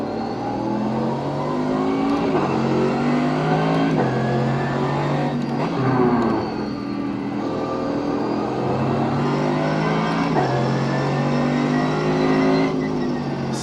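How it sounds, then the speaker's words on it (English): A race car engine in iRacing revs steadily at high pitch on a track test drive, climbing through gears with brief dips at each shift, loud and continuous throughout. "that engine sound is making it easy to sell this car"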